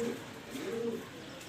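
A male pigeon coos softly in a short, low, rolling call, close and alone with no talk.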